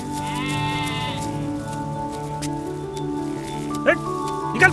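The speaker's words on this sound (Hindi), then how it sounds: "वो देख, बकरी का बच्चा घुसा है, भगा इसे।" A young goat in a farm setting bleats in short wavering cries, first near the start and then again in two sharp bursts near the end, mixed with steady background sounds and someone speaking.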